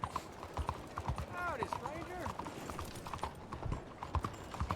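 Hooves of a horse drawing a wagon in Red Dead Redemption 2, a steady clip-clop with a brief whinny, under someone talking.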